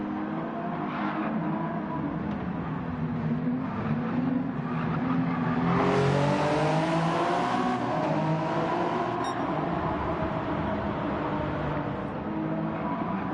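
Race car engines roar continuously in a Gran Turismo 7 Le Mans 24h race, with a Mazda 787B among the field. A loud, steady multi-engine drone rises in pitch mid-clip as cars accelerate past, with no talk.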